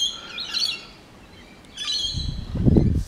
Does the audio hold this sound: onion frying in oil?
no